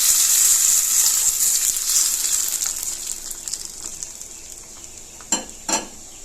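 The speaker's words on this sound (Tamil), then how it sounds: "இப்போ இந்த தாளிப்பை இதோட சேர்த்து மிக்ஸ் பண்ணிக்குவோம்" A tempering of dried red chilli and curry leaves is stirred into tomato chutney in a pan. A loud sizzle fades gradually, then two sharp scrapes of the spoon against the pan follow close together.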